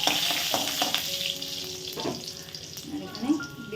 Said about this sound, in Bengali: দিয়ে দিলাম তেল, এবার দেব হচ্ছে এই যে রসুন কুচিগুলো